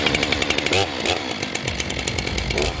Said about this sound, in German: schnappt sich die Kettensäge und schon geht's los.